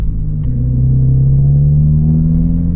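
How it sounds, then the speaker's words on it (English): Toyota GR86 engine heard through a partly open window while driving, a steady loud low drone that shifts pitch once and then rises gently as the car pulls. "Roll the window down a little bit, let y'all hear the car a little bit more."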